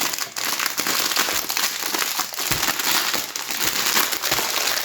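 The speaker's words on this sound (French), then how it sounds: "Petit ASMR de déballage de papier." Paper packaging being unwrapped up close, a steady run of crinkling and crumpling rustles with brief louder crackles throughout.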